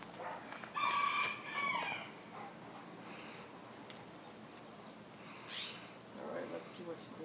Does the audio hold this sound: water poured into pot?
no